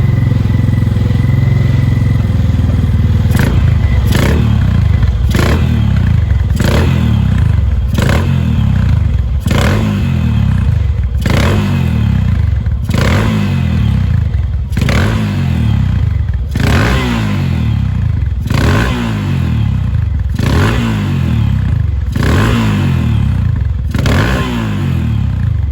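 Classic racing motorcycles, a Manx Norton, a Seeley G50 MkIII and a Yamaha 650, bark loudly as they start and are blipped repeatedly, with a fast, regular series of sharp revving bursts over a constant loud idle.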